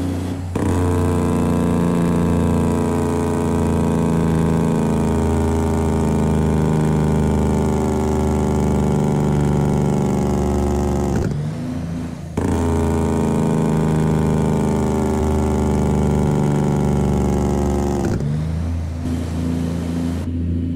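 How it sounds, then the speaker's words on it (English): A Cummins NTC Big Cam truck engine in American Truck Simulator drones loudly with a deep, steady rumble, twice cutting out briefly before roaring back in a long sustained engine-braking growl. "Let's do some engine braking right now."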